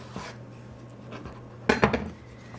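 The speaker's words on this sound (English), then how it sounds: "chop it all in half again." Vegetables chopped in half with a knife on a cutting board for a stir fry, a few light taps early on and then a sharp cluster of close, hard knife strikes against the board, with no talking.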